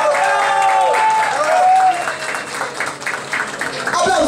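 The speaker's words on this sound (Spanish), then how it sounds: "Aplausos para Mayra Buitón" Studio audience at a televised competition show applauds over music with sustained tones, loud and continuous, a brief voice near the end.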